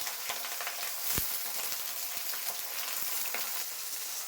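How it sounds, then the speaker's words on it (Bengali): Vegetables fry together in oil, a soft, steady sizzle with scattered crackles and occasional light spatula taps against the pan. "এখন সবজিগুলি তেলে দিচ্ছি সবজিগুলি একসঙ্গে ভাজবো"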